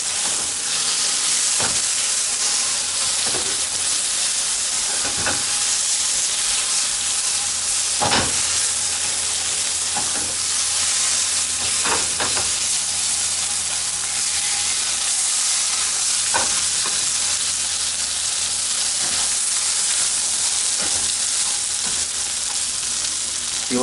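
Ham frying in a pan, a steady loud sizzle running throughout with periodic scraping clicks and knocks from stirring, close and uninterrupted with no talk.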